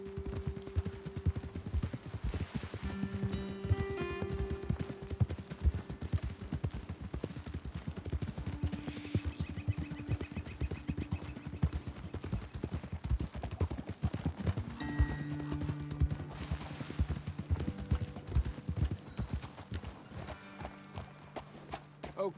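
Horses' hooves clip-clop steadily in Red Dead Redemption 2 as riders move uphill toward a vantage point, a dense continuous rhythmic patter with an occasional neigh amid game ambience and music.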